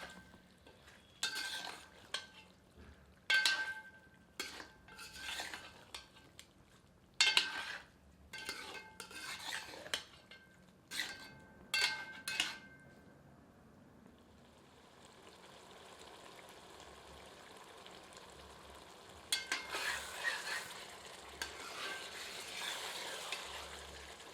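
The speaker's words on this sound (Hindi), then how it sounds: "अब आंच को तीव्र कर लेते हैं और इसे 5 मिनट अच्छी तरह भूनते हैं" Chicken curry is fried over high heat in a copper lagan; spoon scrapes and metal clinks come in bursts, then give way to a steady, gentle sizzling hiss.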